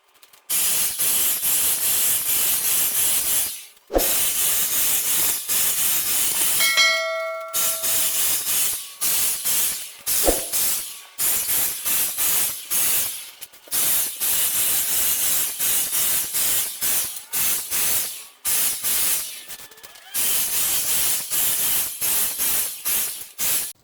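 An HVLP paint sprayer coats a cabinet in long steady hissing bursts, each cut off by brief pauses as the trigger is released and pulled again, loud and close throughout.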